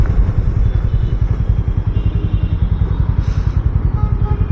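A Harley-Davidson X440 motorcycle is ridden on a road test, its engine giving a loud, steady, rapid low throb close up, with wind and road rumble and no voices.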